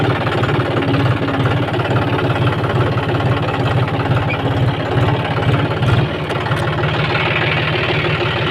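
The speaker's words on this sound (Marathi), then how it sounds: "आता ट्रॅक्टर सोडायचा आपल्याला." Tractor engine idling close by, a steady low rumbling chug with rhythmic knocking pulses that carries unbroken for the whole stretch.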